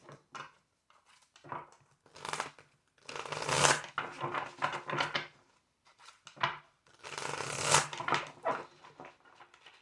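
Rapid riffling and slapping of tarot cards being shuffled, in two or three bursts of crisp fluttering with brief pauses between, close and fairly loud.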